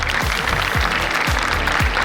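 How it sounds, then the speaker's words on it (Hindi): Audience applause fills the room steadily, dense and continuous, with a few low rhythmic thumps pulsing underneath at a steady beat. "तालियां जोरदार बजती रहनी चाहिए"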